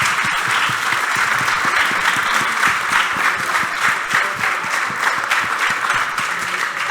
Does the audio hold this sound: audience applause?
yes